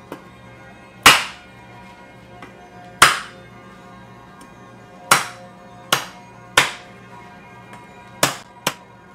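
Coconut being struck with the edge of a tool to crack it open, seven sharp, hard knocks spaced irregularly, close and loud with quiet pauses between.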